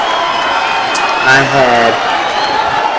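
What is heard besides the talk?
boxing crowd cheering at fighters' face-off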